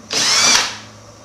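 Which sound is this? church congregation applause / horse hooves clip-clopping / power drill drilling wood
power drill drilling wood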